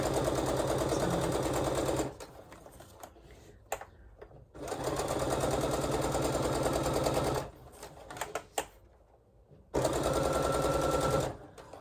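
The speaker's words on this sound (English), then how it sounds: "I'm just going to backstitch a couple." A sewing machine stitching a fabric project bag runs in steady, loud bursts of rapid rhythmic clatter, stopping briefly between runs as if backstitching, heard up close with no talking.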